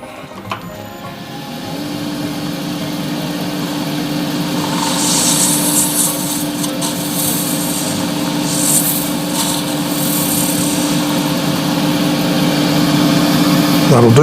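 A shaving brush handle is smoothed on a lathe: a steady, humming motor with continuous rubbing and abrasive friction that builds slightly over time and runs without pause throughout.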